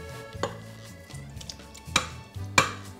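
Canned tomatoes go into an Instant Pot of charro beans, giving a few sharp metallic clanks and scrapes of can and pot against a quiet kitchen background, spaced irregularly with the loudest hits near the end.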